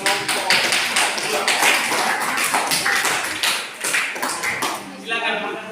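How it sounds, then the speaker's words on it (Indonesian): Group of students clapping in a classroom, a dense sustained burst of applause lasting several seconds before fading, with a voice speaking briefly near the end. "Oke, kita tepuk tangan kelompok."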